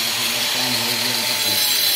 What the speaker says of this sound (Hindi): कटिंग का काम कर रहा है, धूल कितना हो रहा है।